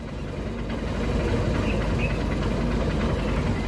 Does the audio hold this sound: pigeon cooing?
no